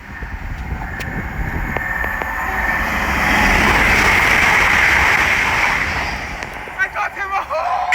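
An LNER Class 800 Azuma train passes at speed on the East Coast Main Line at Biggleswade, a loud rising rush of wheels and wind that swells mid-clip, then a few short horn toots near the end amid breezy microphone noise.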